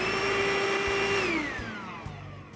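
A cordless Ainope stick vacuum cleaner with a stainless steel filter runs with a steady motor whine, then winds down as the motor pitch drops and fades.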